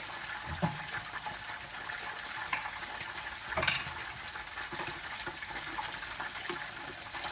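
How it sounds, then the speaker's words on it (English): Korean fried chicken pieces go back into hot oil for a second fry, a steady, close, crackling sizzle with a few louder pops and bubbling bursts. "The idea is to put it back in the oil for another 3 to 5 minutes for each piece."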